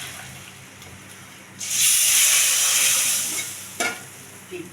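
Hot tempering is poured over brinjal and avarakkai, setting off a sudden burst of loud, bright sizzling that fades gradually, followed by a brief sharp crackle and a small splash.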